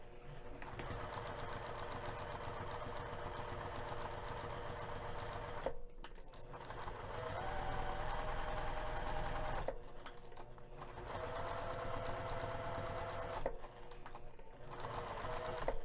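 A sewing machine stitches a tote bag zipper panel in long steady runs of rapid, close mechanical whirring, broken by brief pauses between bursts.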